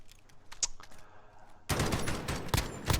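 Gunfire breaks out in a 5v5 tournament video game match, starting with a few scattered shots before a dense, loud burst of rapid overlapping firing fills the last half.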